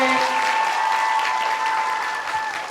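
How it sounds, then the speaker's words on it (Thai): Fans at a first solo fan meeting in Thailand applaud steadily, a full, sustained wash of clapping with a faint tonal hum beneath and no talk on top. "เอาปรบมือหน่อย"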